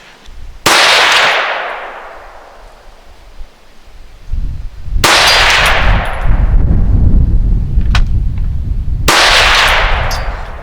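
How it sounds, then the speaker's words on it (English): Three loud gunshots from a Kel-Tec CMR-30 .22 Magnum 16-inch carbine fired outdoors at a 100-yard range, each sharp crack trailing off into a long echo, spaced a few seconds apart with rustling and handling noise between. "So what I'm gonna do is I'm gonna shoot a couple groups out at 100 yards."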